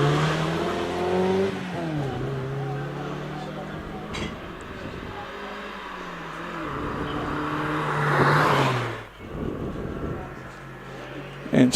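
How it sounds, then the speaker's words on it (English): A Mazda MX-5 climbs a hillclimb course at Prescott, its engine revving and shifting through the gears and fading with distance, while a commentator talks over it the whole time. "Andy Johnson heads up towards Pardon in the MX-5"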